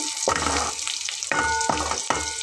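Spiny gourd fries in a pan with chopped onion, a close sizzling hiss broken by several quick stirring scrapes and clinks of the spoon against the pan, with no voices.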